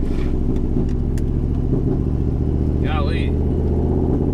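A 500hp street truck's engine runs rough and loud up close, a steady mid-pitched drone with uneven pulsing throughout, while someone talks briefly over it.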